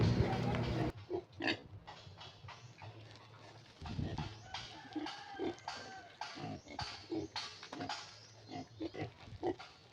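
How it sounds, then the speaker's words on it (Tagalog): Pet pigs being raised on a farm, about 25 days into their care and just bathed in the morning, grunt and oink in repeated close bursts, with a dog and a bird audible now and then. "Update po sa aming alagang baboy."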